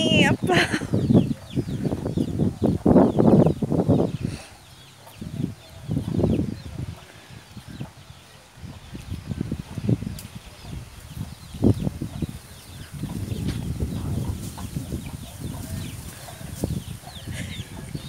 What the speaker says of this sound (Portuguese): Olha o Davi espantando as galinhas.